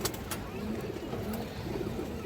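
Pigeons kept by a breeder coo softly and repeatedly in low, throaty phrases, with brief higher chirps at the start, at moderate distance under faint background noise.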